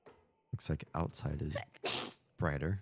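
A single short, sharp sneeze breaks in among a person's close-up talking, loud and brief, with speech on either side of it.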